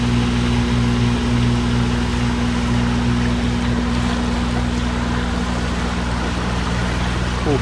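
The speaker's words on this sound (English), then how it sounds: "here we have somebody in a boat here" A steady, droning boat engine hums continuously close by on the water off Curtis Island near Gladstone, a constant low rumble with a faint rhythmic throb and no voices.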